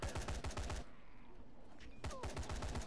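Rapid bursts of gunfire in the zombie video game Dying Light, two volleys of quick shots separated by a brief lull with faint tones.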